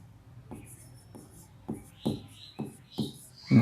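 Someone writes by hand while working a maths problem, making a run of short, distinct strokes that grow firmer toward the end, with faint talk in the background.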